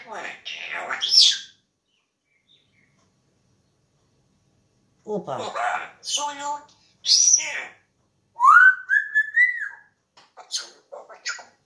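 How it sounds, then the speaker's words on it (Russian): A pet bird chirps and whistles in bright bursts, including a rising whistled note, broken by pauses, while a person talks nearby. "Хорошая птица. Славная птица."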